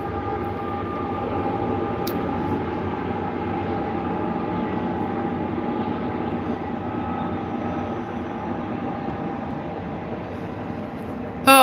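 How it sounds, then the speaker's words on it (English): A passing train gives a long steady rumble with tonal hums, fairly close and loud, and carries on for the whole stretch. A brief click sounds near the start and a sharp burst comes at the very end. "Sorry for the train and whatnot."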